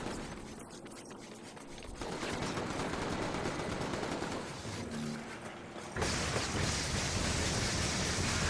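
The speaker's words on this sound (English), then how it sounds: "I did not know there was a machine gun on this side." Sustained machine gun fire in the video game inFAMOUS, a dense continuous rattle that grows louder and harsher partway through, with no voices over it.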